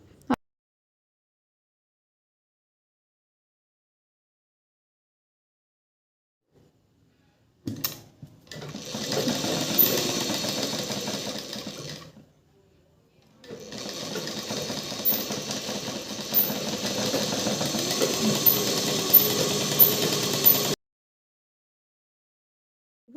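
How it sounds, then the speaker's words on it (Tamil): Lining cloth is stitched onto a petticoat on a sewing machine, heard as two steady bursts of close whirring separated by a short pause, with silence before and after. "அதுக்கு மேலே லைனிங் துணி வச்சு அதே மாதிரி குண்டூசி வச்சு தைக்க போகிறோம்"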